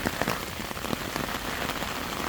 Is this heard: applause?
no